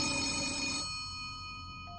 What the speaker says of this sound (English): I heard the phone ringing and rushed to pick it up.